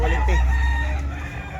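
A rooster crows loudly and close at a chicken expo in Tabunok, Talisay, Cebu, one sustained call over low crowd rumble with faint voices.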